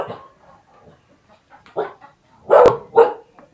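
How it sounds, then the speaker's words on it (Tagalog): A dog barks a few times, sharp and fairly close, between quieter stretches of faint background activity. "Yan ang may aso."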